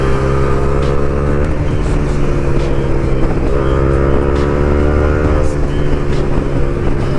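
A motorcycle fitted with an aftermarket exhaust runs loudly and continuously, its engine drone steady and close with slight rises in pitch, no voices over it.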